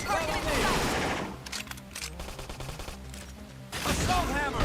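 Rapid bursts of gunfire from combat in the video game Xenoblade Chronicles X, dense and continuous in the middle of the clip and mixed with game sound effects and battle voices at the start and end.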